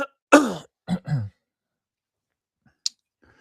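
A short burst of throat clearing and coughing, close by, followed by silence and a faint click.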